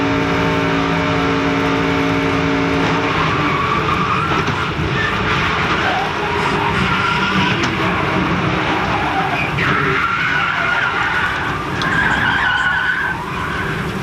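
Onboard a NASCAR race car at full throttle during the 1998 Touchstone Energy 300, a steady, loud engine roar runs throughout with hissing tire noise, close and unbroken for the whole stretch.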